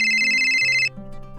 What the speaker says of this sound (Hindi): सूरज रानी परी को फोन करता है